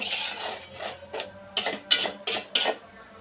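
Taro root and shrimp curry is stirred in a pan, with a spoon scraping in about half a dozen short rhythmic strokes, close and fairly loud, with no talk.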